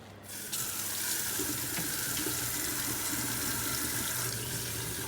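Running tap water pours steadily over salted cucumbers in a colander at a kitchen sink, a continuous close rush of water that starts abruptly and holds at an even level throughout, with no talking.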